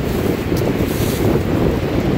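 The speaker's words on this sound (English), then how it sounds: "You couldn't tell by all the wind noise." Loud, continuous wind buffets the microphone outdoors while metal detecting, with a rough, rumbling roar that never lets up, with no voices.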